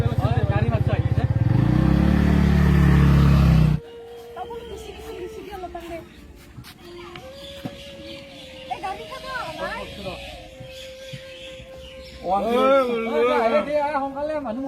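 A vehicle, most likely a motorcycle, engine roars loud and close for the first few seconds as it pulls up, then cuts off, leaving people talking with scattered background sounds.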